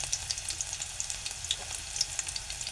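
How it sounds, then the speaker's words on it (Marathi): Garlic dropped into two small ladlefuls of hot oil sizzles and crackles steadily with scattered sharp pops, close and fairly loud, with no voices. "तेल घेतलं आहे दोन पळी बारकी आणि त्यामध्ये मी लसूण टाकतो"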